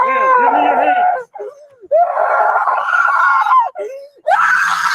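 A woman screams and wails loudly in long, anguished bursts broken by short sobbing gasps, close up and distressed, during a police arrest.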